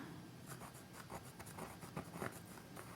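A white charcoal pencil sketching on canvas for an acrylic painting of a monarch butterfly on lavender, soft repeated scratchy strokes in short bursts, quiet and close, with no speech.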